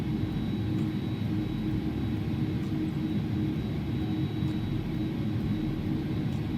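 An Airbus A300 in the X-Plane 11 flight simulator taxis into its stand at Faro, giving a steady low engine rumble and broad hum that holds unchanged throughout, with no talk.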